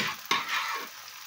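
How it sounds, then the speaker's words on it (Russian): Steady sizzling of chicken and mushrooms frying in a hot pan, with a brief clatter of stirring near the start. "чтобы обжарить это все"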